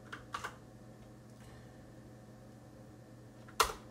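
Typing on a computer keyboard, a few scattered keystrokes at the start and one sharp clack near the end over a faint steady hum, no talking.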